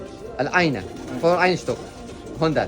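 Homing pigeons coo in a loft in Germany, three rolling, throaty calls heard up close, with someone speaking over them.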